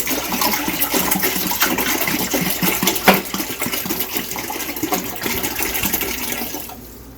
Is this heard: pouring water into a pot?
yes